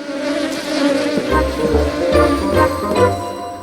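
A loud, continuous buzzing hum of bees close by, wavering slightly in pitch over a few seconds with no talking.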